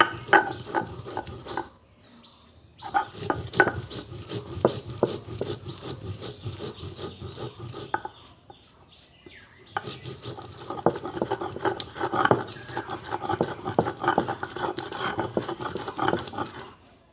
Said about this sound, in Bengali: তাই এবার আমি এগুলো ভালো করে বেটে নেব। আর এটা কিন্তু একদম মিহি করে বেটে নিতে হবে।